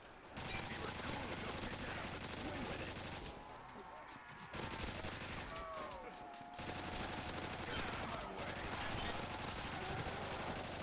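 Dense, continuous gunfire in the Call of Duty: World at War Nazi Zombies co-op mode, with rapid automatic bursts and overlapping shots running almost nonstop and pausing only briefly.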